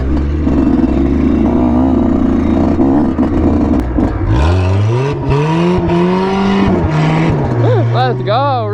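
A pickup truck tearing around a parking lot with its engine revved hard, loud rising and falling whines as it accelerates and swoops past, close by, with people shouting over it.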